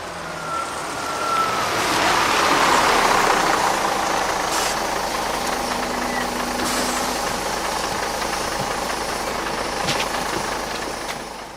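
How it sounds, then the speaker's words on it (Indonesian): A bus engine idles after stopping at a roadside in front of small stalls, a steady low rumble with a continuous broad wash of noise that stays level, with a few faint knocks. "Waktu itu bis berhenti di pinggir jalan di depan warung-warung kecil."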